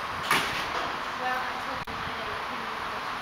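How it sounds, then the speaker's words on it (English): A Kone traction elevator in a parking garage at Waters Creek, its single sliding door gliding with a steady hum and a soft thud partway through, under a continuous background drone. "This one has a single slide door."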